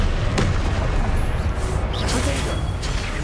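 Confringo explosive spell cast in Hogwarts Legacy: a sharp booming burst with a whooshing rush, set among loud, dense combat rumble and further impacts.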